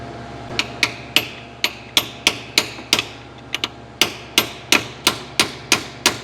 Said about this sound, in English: maybe I can grab it there and just hammer it